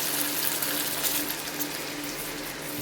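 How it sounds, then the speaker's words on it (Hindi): Water is poured into a pan of egg karahi masala, giving a steady, fairly quiet gushing hiss that runs evenly throughout without any break. "थोड़ा सा पानी शामिल करेंगे ताकि मसाला जले नहीं।"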